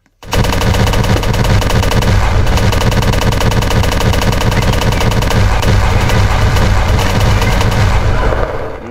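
Sustained, very loud automatic gunfire from the Hex Spitter in a video game, a rapid unbroken stream of shots lasting several seconds before tapering off at the end.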